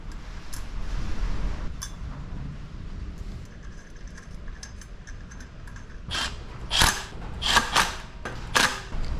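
Sharp metallic snaps and clicks from a snap ring being fitted during a Honda FL250 two-stroke engine rebuild, several close, loud bursts clustered toward the end over quiet workshop handling.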